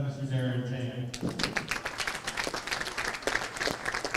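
An audience at a bowling trophy ceremony claps steadily for the second-place finisher, a dense spatter of hands rising sharply after a voice over the speaker system.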